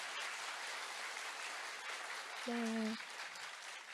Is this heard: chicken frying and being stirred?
no